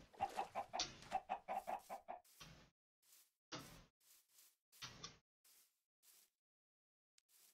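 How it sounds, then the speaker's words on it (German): Chickens clucking near a home in the woods, a busy burst of short calls at first, then scattered single clucks with pauses between, fading toward the end. "Hier sind Hühner. Hallo Hühnchen."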